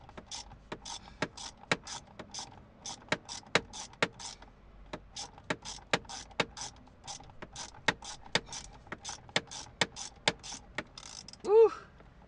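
A ratchet wrench clicks steadily while backing out steering wheel bolts on an 8th gen Honda Accord during an NRG wheel install, with a long run of evenly spaced sharp clicks up close, ending in a brief louder squeak.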